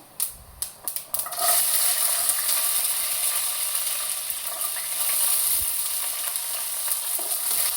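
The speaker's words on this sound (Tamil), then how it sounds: "வடகம் போட்டு தாளிச்சுட்டு நல்லா பொரியட்டும்." Vadagam frying in hot oil as a tempering for a green gram curry: a few sharp clatters as it drops in, then a loud, steady, close sizzle that carries on alone.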